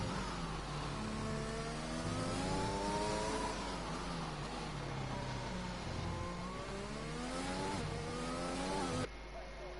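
Racing car engines in a PlayStation racing video game at a Mexico track during qualifying whine and rev continuously, pitch rising and falling as they accelerate and ease off, ending abruptly.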